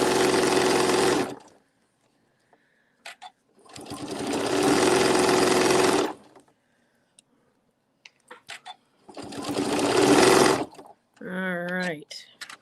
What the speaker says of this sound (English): we're going to sew this pretty lickety-split here